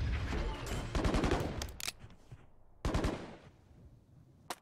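Gunfire in the tactical shooter Valorant, loud close bursts of rapid shots, a long burst first, then short sharp bursts separated by quieter gaps.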